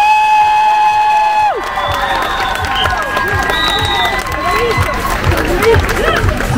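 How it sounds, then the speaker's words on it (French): Crowd at a pride march in Périgueux applauding and cheering loudly and continuously, with shouts and whistles mixed in and voices through the din, after a sustained horn-like tone cuts off. "Applaudissez Anaïs"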